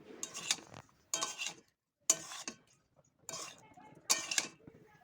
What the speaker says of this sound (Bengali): নুন আর চিনিটা গলে যাওয়া অবধি খুব ভালো করে নেড়ে চেড়ে নিলেই এই ফ্রায়েড রাইসটা রেডি